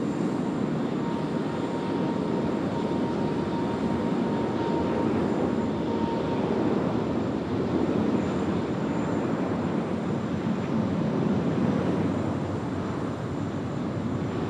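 A China Southern airliner rolls for takeoff at Sydney Airport, its engines giving a broad, sustained roar that holds steady at a moderate distance for a long stretch.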